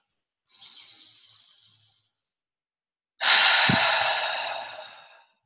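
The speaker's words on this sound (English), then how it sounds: "let's take one more deep breath together" Slow deep breathing during a guided meditation: one long airy inhale, a pause of silence, then a louder, fuller exhale that fades out, close and alone.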